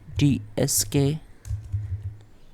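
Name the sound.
typing a command on a computer keyboard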